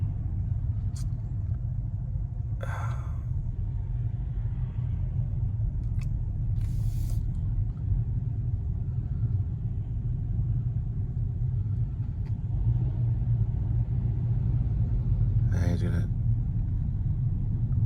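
Road traffic around a delivery driver stuck in the middle of traffic, a steady low rumble of engines with a few brief sharper passing sounds scattered through it.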